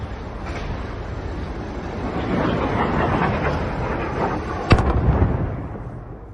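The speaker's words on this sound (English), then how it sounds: "See that other missile there striking that target" Missile strike in wartime Lviv, a heavy rumbling blast building over several seconds with a sharp crack near the end, recorded from a distance, with no voices.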